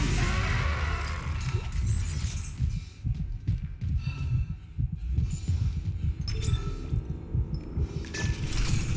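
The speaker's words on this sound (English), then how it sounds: "If anything, you should not get that heartbeat all the goddamn time." Heartbeat effect in the Dead Space Remake on PC, a steady low thumping pulse that repeats loudly throughout, layered with game ambience and occasional metallic clanks.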